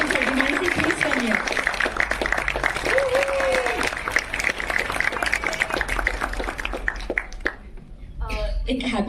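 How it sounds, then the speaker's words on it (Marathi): An audience claps for Mansi Patil at a Marathi film song launch event in Pune. The applause is dense and sustained, with voices and chatter mixed in, and it thins out near the end. "जोरदार टाळ्या मानसी पाटीलसाठी."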